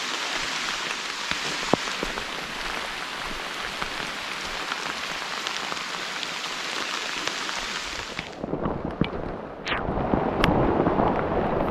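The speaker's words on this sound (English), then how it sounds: "Splish splash, we're walking in the rain." Heavy rain pours onto a forest trail along the Chattooga River, a dense, steady hiss of drops that later thins and turns more uneven, with scattered closer splashes.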